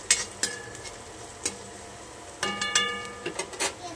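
A spoon stirs poha in an oily pan, giving a few scattered scrapes and clinks against the metal over a soft kitchen background, with a quiet ringing tone near the end.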